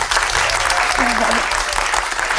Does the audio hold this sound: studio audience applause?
yes